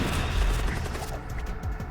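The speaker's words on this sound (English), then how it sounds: "Magic Artillery." Magic Artillery firing in the Void War spaceship game, a rumbling barrage of booming low blasts and rapid explosive crackles, loud and sustained through the brief moment.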